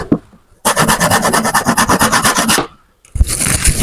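A hand saw cuts through scrap wood in quick, rhythmic rasping strokes, loud and close. It pauses briefly, then resumes sawing.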